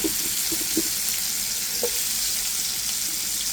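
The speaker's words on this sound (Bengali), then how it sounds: "তবে কাঁকরোল আর আলুটা আগে দিয়ে একটু ভেজে নিচ্ছি" Teasel gourd and potato pieces fry together in a pan, producing a loud, unbroken broadband hiss with a few low knocks near the beginning.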